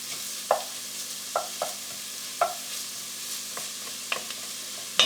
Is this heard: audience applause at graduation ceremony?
no